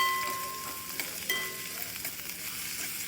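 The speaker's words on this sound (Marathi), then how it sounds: "त्याला परतून घ्यायचं आहे" Food sizzling and being stirred in a hot pan during sautéing, a steady crackling fry with occasional scrapes of a utensil, close and continuous.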